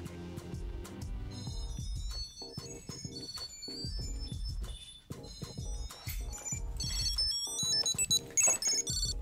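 A Tile Mate key tracker plays its electronic ringtone, a bright, busy melody of beeping notes that runs continuously for several seconds, fairly loud and alone.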